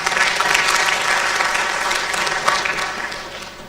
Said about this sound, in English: I think the Vice Chancellor deserves a bigger round of applause.